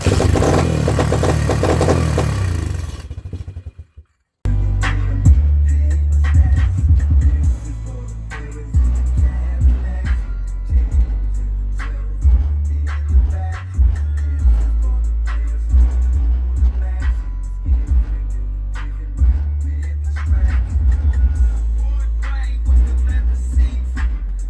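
A choked pit bike engine cranks roughly, cuts out briefly, then catches and runs close and loud with uneven revving bursts and sputters throughout.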